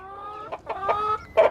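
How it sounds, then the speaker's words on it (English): Two backyard egg-laying chickens cluck in a short, close burst of separate calls, the last one loudest, with no talk over them. "From this side now we're having 2 chickens."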